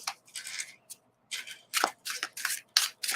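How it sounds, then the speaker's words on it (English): Tarot cards are shuffled by hand in a run of short, crisp swishing bursts with brief pauses between, close and fairly quiet, no voices. "Let's just shuffle the cards again."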